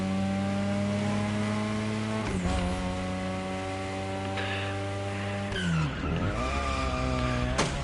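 A car drifting in the racing game The Crew Motorfest, engine holding a steady high drone with pitch swings and dips as revs change, tire screech blended in, no talk.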